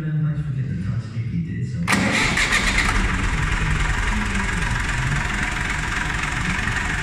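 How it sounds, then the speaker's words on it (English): A restored Massey Ferguson 135 tractor engine cranks briefly, then catches and settles into a loud, steady idle with a rough, knocking chug, close by. "So that's the little 135. I'll give her a wee start. See will she start."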